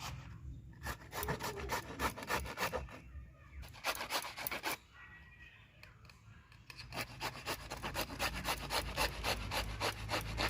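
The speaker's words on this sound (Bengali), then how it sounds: "আমার নাতি বউ লাউ করছে, ঘষছে মেশিনে" Tender bottle gourd rubbed against a hand grater: quick rhythmic rasping strokes in bursts, fairly faint and close, with a short pause midway before the grating resumes.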